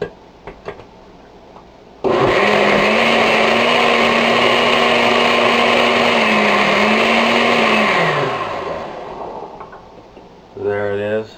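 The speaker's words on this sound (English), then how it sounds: "So let's blend the rest of this up." A blender runs hard on a raw vegetable soup with tomatoes and avocado, a loud steady whir for about six seconds, dipping and winding down near the end, with a voice heard briefly afterward.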